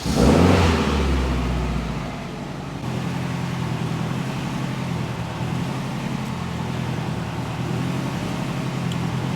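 An all-wheel-drive Honda Civic Type R engine starts with a loud burst, then settles into a steady, close-up running drone with a constant rumble and no clear rises in revs.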